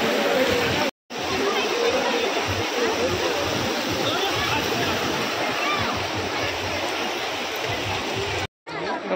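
Water surging hard down a hillside at the Baruni fair site in Mayurbhanj, Odisha: a dense, loud, continuous roar and splash that fills the clip, broken by two brief cuts.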